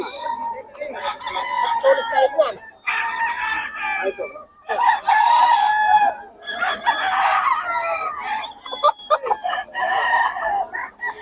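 Chickens and roosters at a poultry market in Bocaue, Philippines, with loud, close clucking and repeated crowing in overlapping bursts and busy market noise, and a voice talking at times.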